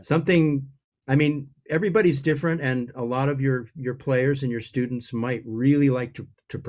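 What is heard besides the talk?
No everyday noises stand out.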